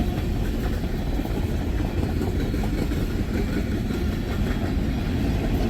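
A long Norfolk Southern freight train, hauling tank cars with distributed locomotives, rolls past close by with a loud, steady low rumble of wheels and engine drone and no talk.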